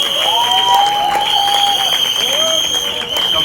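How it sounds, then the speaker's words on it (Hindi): An audience at a film launch event applauds for the lead actors, the clapping mixed with crowd noise and sustained high whistle-like tones, loud and close throughout. "दोनों के लिए एक बार जोरदार तालियां हो जाए"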